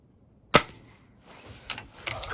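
Crosman Magfire Extreme air rifle firing: one sharp, loud crack, then two quieter follow-up snaps about half a second apart, with a low background rumble in between.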